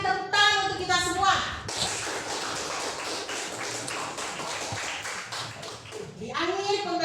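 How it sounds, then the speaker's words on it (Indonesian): Applause breaks out in an Indonesian classroom, a dense burst of many small hands clapping for several seconds, bracketed by children's voices speaking before and after. "berikan tepuk tangan untuk kita semua"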